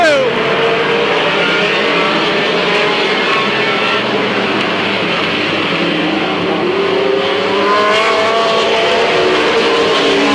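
Race cars roar side by side out of turn two at Midvale Speedway in 1995, a loud, continuous engine drone with rising and falling pitch as they accelerate, heard close and steady throughout.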